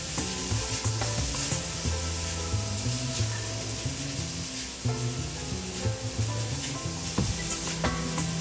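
Artichokes sauté in a hot pan with a continuous close sizzle, spatula scrapes and stirring clatter breaking through now and then, no talking.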